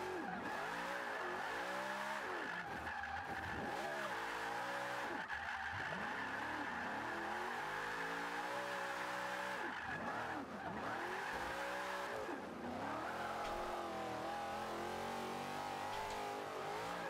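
A RWD Pontiac Firebird Trans Am GTA drift build in Forza Motorsport 5 roars through long slides, its engine rising and falling with revs while tires squeal continuously underneath, loud and unbroken.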